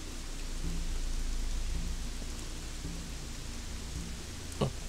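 Summoned lightning spell in Gothic 3 as a steady roar of rain and rolling thunder, with a sharp crack near the end.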